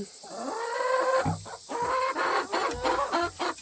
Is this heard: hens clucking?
yes